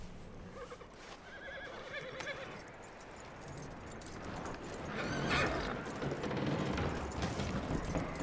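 A horse in Red Dead Redemption 2 whinnies and snorts, then clip-clops along with steady hoofbeats that grow louder toward the end, under a murky in-game ambience.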